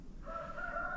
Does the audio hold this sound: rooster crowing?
yes